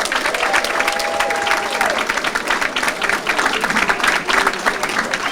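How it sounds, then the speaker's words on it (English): An audience at an awards event with a youth fashion show gives sustained, loud, dense applause with cheers and a whistle rising over the clapping. "can we clap it up one more time?"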